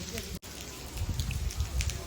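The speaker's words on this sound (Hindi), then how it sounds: "बरसात बहुत ज़्यादा है" Heavy rain pours down at Fatehpur Sikri, a steady dense hiss and patter of drops on surfaces, continuous and close throughout.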